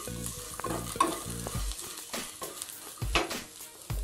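Tempering sautés in a pan for curd rice, with a soft oily sizzle broken by repeated scraping stirs of a spoon against the metal pan, close and fairly quiet.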